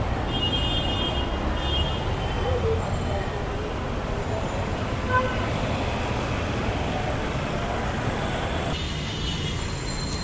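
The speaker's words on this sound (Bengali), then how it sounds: "ব্যস্ততম শাহবাগ চত্বর" Busy traffic at the Shahbagh intersection in Dhaka, near the metro station, makes a dense, steady roar of engines and road noise that fills the whole stretch without a break.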